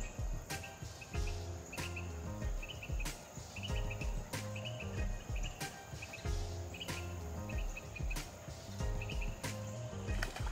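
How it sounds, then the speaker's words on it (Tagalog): Steady chirping of birds with repeated short calls, among ducks, geese and flamingos in a park, layered over a rhythmic background of loud regular pulses. "Yung ibang huni naman ng bird"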